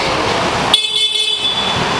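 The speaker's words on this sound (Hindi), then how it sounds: "और हॉर्न और इंडिकेटर्स भी।" A Honda Activa 5G scooter horn sounds during a free service check, a single sustained electric beep starting abruptly partway in, over a noisy workshop background.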